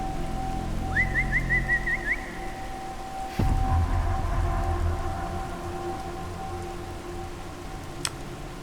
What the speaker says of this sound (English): you could swear that you heard a long but high-pitched whistle